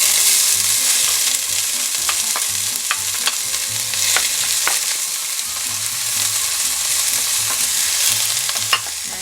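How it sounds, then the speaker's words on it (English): Onions frying in olive oil in a hot pan, a loud, dense sizzle with crackling bursts and occasional stirring scrapes, continuous and close with no talking. "I heated up my pan and I have some olive oil in there, and I'm gonna go ahead and throw in the onions."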